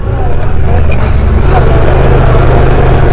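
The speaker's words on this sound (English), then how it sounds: "I'm shifting to manual transmission and doing it on the sticks. Downshift and upshift" Honda Pioneer 1000 EPS side-by-side engine revving as the gears are shifted manually up and down, a loud, close, steady low drone with a slight rise and fall that fills the whole stretch.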